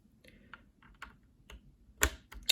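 Keystrokes on JWK x NovelKeys Silk switches, a sparse run of individual clicky-thocky presses at an uneven pace, quiet and close, with a sharper, louder cluster near the end.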